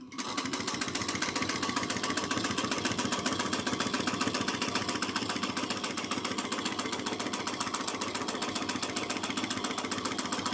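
A sewing machine stitching and locking a seam on a bag panel, running fast with a rapid, even mechanical rattle that holds steady, close and loud throughout.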